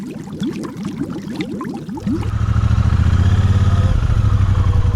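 A small Triumph twin motorcycle rides close by, its engine note starting choppy and uneven, then settling into a loud, steady drone after about two seconds.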